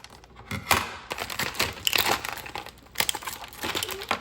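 Tape being peeled and pulled off a Barbie Chelsea camper toy box, with crinkly plastic and cardboard rustling in several close bursts.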